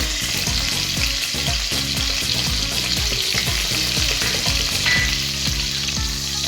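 Finely chopped garlic frying with cumin in hot oil, a loud dense crackling sizzle with rapid rhythmic scraping strokes of a spatula against the pan throughout.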